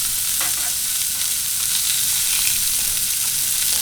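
Taco meat fries on a Blackstone griddle with a steady, loud, close sizzle: a dense hiss with soft crackles throughout, heard alone with no voices.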